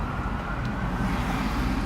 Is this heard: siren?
yes